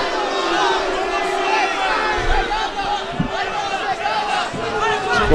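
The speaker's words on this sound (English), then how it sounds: "Okay, the crowd getting a little restless here." Restless crowd at a Jon Jones MMA fight, a dense roar of shouting and chatter from a large arena audience, steady and loud throughout with occasional louder swells.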